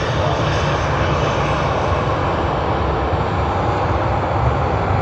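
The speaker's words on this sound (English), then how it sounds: "Nice to see the 150th Boeing 737 livery of Virgin Australia come in yet again." A Virgin Australia Boeing 737 in its 150th-aircraft livery arrives at Sydney Airport, its engines producing a loud, steady, broadband roar that fills the whole stretch without a break.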